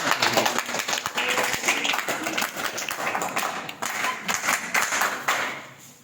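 A group of students applauds together, with dense, continuous clapping that carries on for several seconds and then tapers off near the end.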